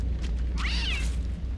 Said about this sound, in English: Surprise cat!